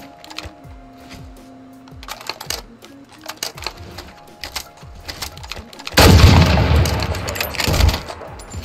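Gunfire in a Call of Duty Modern Warfare private match: light clicks and small pops lead into a loud, sustained burst of shooting near the end.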